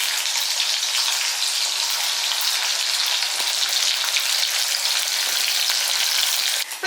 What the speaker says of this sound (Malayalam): നല്ല ഒത്തിരി ക്രിസ്പി ആവേണ്ട ആ രീതിയിൽ നമുക്കൊന്ന് വറുത്ത് കിട്ടാവേ